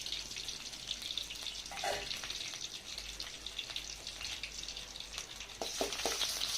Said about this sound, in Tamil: பொன்னிறமாக வதக்கவும்.